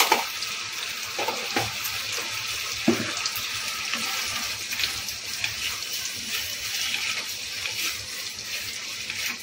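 Chana masala being stirred in a pan after a little sugar is added, with no water in the dish: a steady close sizzle with soft scraping and clinks of the spoon against the pan, running continuously throughout.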